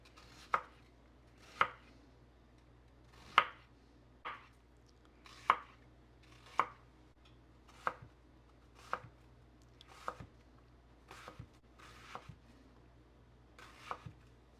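An onion is chopped with a Vero 6-inch chef knife on a board, giving about a dozen crisp, separate knocks at an uneven, unhurried pace, close and clear against a quiet room.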